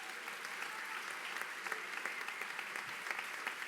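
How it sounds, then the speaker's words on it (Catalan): Concert audience applauding the arranger after a folk music performance, a dense, continuous wash of many hands clapping at moderate distance, sustained and even with no voices over it. "I un gran aplaudiment per qui ha fet tots aquests arranjaments dels senyors"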